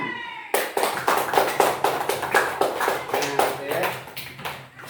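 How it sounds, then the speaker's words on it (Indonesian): A group of children claps rapidly and steadily for several seconds after a brief quiet start, the crisp hand claps dense and lively, in a classroom. "Tepuk tangan buat tuh."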